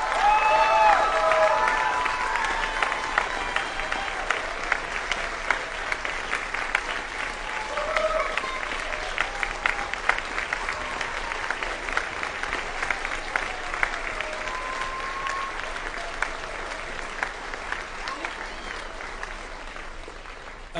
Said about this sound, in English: Let's give this lady a big round of applause.